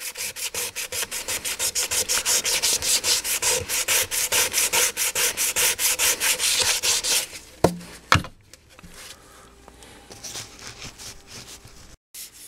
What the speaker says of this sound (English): I want to make this even rougher than it is with the 400 sandpaper